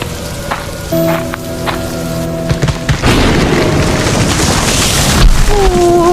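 Heavy rain pours down with a dense hiss, broken by deep rumbling booms of thunder, growing louder and fuller in the second half.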